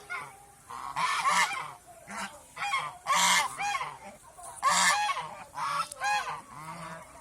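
Farm geese on a Bengali homestead honk in repeated loud bursts, several birds calling over one another close by, with short pauses between the noisy clusters.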